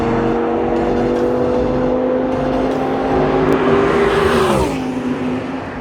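An Audi R8 with a V10 engine drones along a race track, a strong steady engine tone that swells and then shifts pitch sharply toward the end, as if changing gear.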